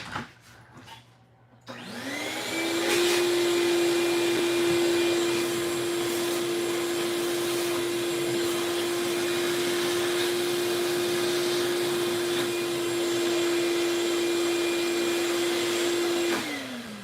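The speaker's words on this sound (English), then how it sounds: "I'm going to take the shop vac real quick and suck out the hole" A shop vac roars on close and loud, sucking debris out of a hole while working on a 1996 Dodge Dakota, running steadily with a whining tone for about fifteen seconds before shutting off.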